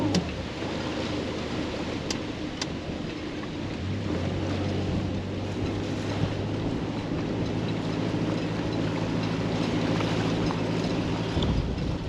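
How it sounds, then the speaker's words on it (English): Wind gusts over the water on the Norfolk Broads, a continuous buffeting rush against the microphone with a low motor hum beneath, steady and fairly loud throughout. "The wind's getting up a bit."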